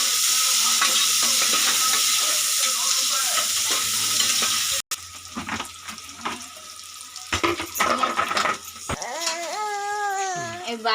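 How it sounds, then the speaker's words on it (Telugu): Onions and green chillies fry and get stirred in a pan, a steady loud sizzle throughout with scraping stir strokes, briefly cut off midway, and a whistling tone rising near the end. "దాంట్లోకి ఎర్రగడ్డ 4 కట్ చేసుకున్న పచ్చిమిరపకాయలు, అవి బాగా వేగాలి"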